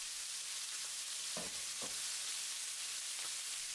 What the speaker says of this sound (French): Je mets la moitié des brochettes pour maintenir la chaleur. Je laisse griller pendant 1 minute.